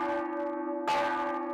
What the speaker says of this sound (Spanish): coordinar el repique de más de 40 campanas en manos de jóvenes